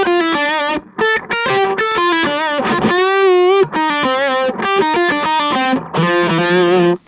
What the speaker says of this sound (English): They don't have any effects.